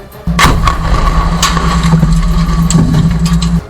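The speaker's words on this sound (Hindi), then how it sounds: "रात के अंधेरे में ऐसे धमाके हुए मानो पटाखे फूट रहे हों" Night battle in Israel's fight against Hamas weapons sites, with a loud, continuous rumble of blasts and gunfire layered through the whole stretch, sharp cracks rising above a steady low roar, with no voices.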